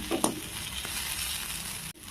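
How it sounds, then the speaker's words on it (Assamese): Leftover roti frying in a pan as an evening snack: a steady, close sizzle and crackle runs throughout with a few brief stirring clicks, and no voice is heard. "ৰুটিটো দি কিনে বেছি সময় নাভাজিব, অকণমান সময় ভাজিব"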